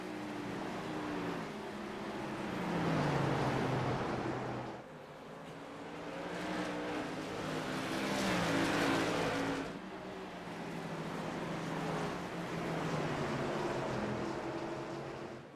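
Whelen Modified race cars lap North Wilkesboro Speedway, their engines swelling and fading in repeated waves as the pack passes and roars off at a distance, with no talk heard.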